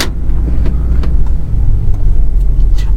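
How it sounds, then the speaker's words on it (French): Loud, steady low rumble of a 2001 BMW 730d's diesel engine running cold, heard close with a few faint clicks scattered over the constant drone. "c'est qu'on entend bien le bruit du diesel"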